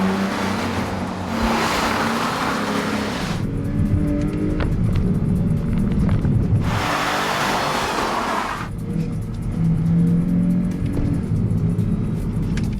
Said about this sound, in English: put it into Sport Plus, put it into manual mode, drop back, let's say 4 gears, and off we go